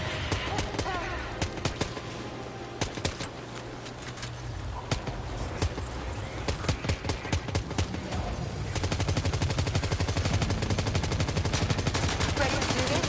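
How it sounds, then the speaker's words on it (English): Sustained automatic gunfire in the video game Death Stranding 2, bursts of sharp shots rattling on for many seconds, turning into a denser, heavier barrage partway through, with occasional voices underneath. "Open fire."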